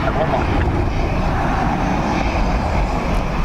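A Ryanair airliner landing on runway 28L at Dublin Airport, its loud engine roar filling the air steadily and continuously, a broad rushing drone close by with a faint voice underneath.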